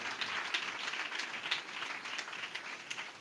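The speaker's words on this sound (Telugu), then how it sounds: "చప్పట్లు కొట్టండి అందరు ఒకసారి" A church audience claps together in a quick, fairly even rhythm, the applause faint and somewhat distant, with no speech over it.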